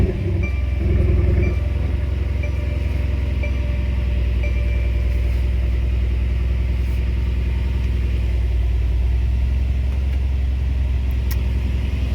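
A 2019 Mercedes-AMG GLC63 4MATIC+ SUV with a biturbo V8 starts up, a brief louder burst near the start settling into a steady, deep, close idle rumble that continues throughout with no talking.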